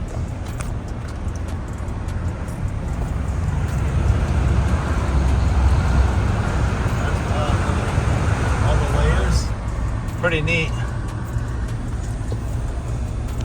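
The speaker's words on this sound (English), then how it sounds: "we're just sitting in traffic" Slow-moving highway traffic with semi trucks makes a steady low rumble and road hiss close by, swelling slightly midway, while a voice briefly speaks over it.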